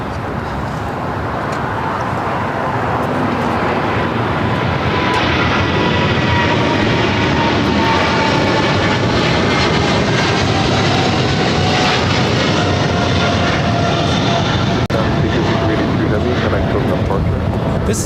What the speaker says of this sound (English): This is China Airlines Cargo 5382 taking off to Miami on a 777 freighter.